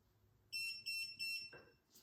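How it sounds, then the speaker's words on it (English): An Elegoo Mercury 3.0 Plus wash and cure machine gives three short, soft, evenly spaced electronic beeps, quiet and close, followed by a faint bump of handling noise. "Quiet beeps. We like quiet beeps, Elegoo."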